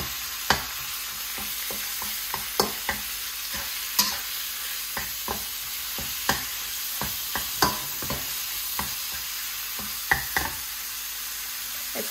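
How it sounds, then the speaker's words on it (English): Beef sizzles in a hot pan for Thai chilli beef, a continuous frying hiss punctuated by a dozen or so sharp clacks and knocks of a utensil stirring and tossing the meat, close and without speech. "I think the pan is quite warm now, so I'm gonna toss in the beef."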